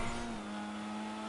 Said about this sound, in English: the engine makes like a nice sound, so that also gives you a feeling of going fast.